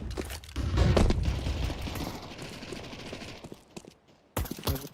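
A flashbang grenade goes off in a multiplayer shooter, a sharp blast amid ongoing gunfire and clatter, tapering to a quiet gap before another sharp burst near the end.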